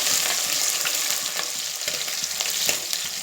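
Small native onions fry in a pan for gongura mutton fry, a strong continuous close-up sizzle broken by light stirring scrapes throughout, with no speech.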